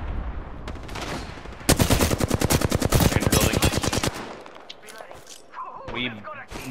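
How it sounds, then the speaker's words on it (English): Rapid automatic gunfire from the Apex Legends video game, a dense burst of shots lasting a couple of seconds, followed by scattered effects and a voice speaking. "Enemy spotted. Near me. Opening fire."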